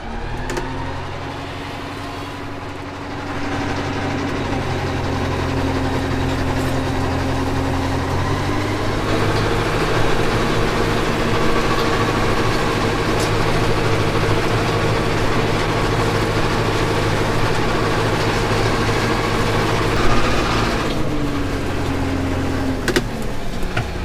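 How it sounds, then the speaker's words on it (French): A tractor engine runs steadily with its power take-off engaged for mowing fallow fields, giving a loud, close, continuous low diesel drone with a mechanical whine that shifts slightly as the drive is brought in, with no talk. "Je vais activer la prise de force tout doucement."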